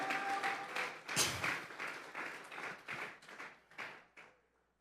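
Church congregation clapping hands together as an offering of praise during a sermon, a dense crowd of applause that rises sharply and then tapers off over several seconds.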